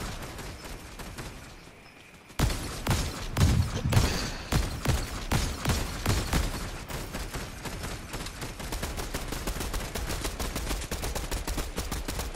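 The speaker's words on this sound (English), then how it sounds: "I hear they're shooting at north, so watch out, Cruz." Gunfire rattles in an online shooter game. Quiet ambience gives way to a sudden, loud stream of rapid, evenly spaced shots that continues without pause to the end.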